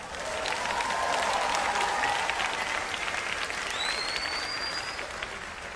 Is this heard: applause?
yes